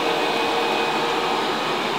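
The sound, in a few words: VEREFA L11 Pro robot vacuum cleaning carpet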